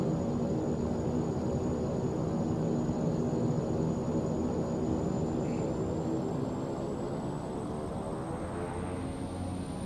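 Twin turboprop engines of a Saab 340 in X-Plane 11 spool up to takeoff power, a loud, continuous droning roar with a whining tone rising slowly in pitch throughout, heard from the cockpit.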